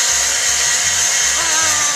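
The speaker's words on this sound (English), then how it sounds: "I'm controlling some flashing lightning and of course the blow dryer." Handheld blow dryer serving as a wind machine for a homemade clock tower scene model, running as a loud, close, continuous hiss with a pulsing low hum beneath.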